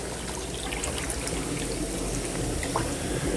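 Water bubbles and gushes out through the partly open gate of a shrimp pond dyke, a steady, loud, continuous wash with no voices.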